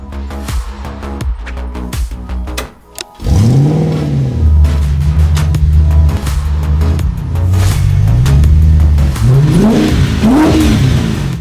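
A GT40 sports car engine revs hard again and again, loud and close, its pitch climbing and falling in repeated bursts after a brief pause.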